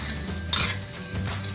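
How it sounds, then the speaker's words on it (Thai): Light scraping and clinking of bread cubes being stirred and toasted in a metal pan, with one brighter clatter in the middle. "ค่อยๆ คั่วไปแบบนี้ค่ะ"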